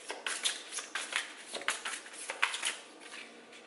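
Tarot cards are shuffled by hand near the microphone, a quick run of crisp riffling slaps and flutters in uneven bursts, with no talk.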